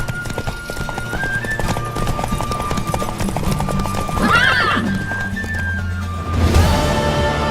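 A horse gallops in a race against the Baron in The Witcher 3: Wild Hunt, with steady, loud hoofbeats running throughout and a whinny rising near the end.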